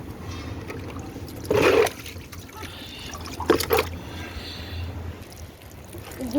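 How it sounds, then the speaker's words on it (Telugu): Water trickles and dribbles steadily from a hole in a watering can in a home garden, with two brief louder splashes partway through, close by and moderately loud. "ఓలు ఉంది అందుకే అట్లా హోల్లో నుంచి పడుతున్నది వాటర్"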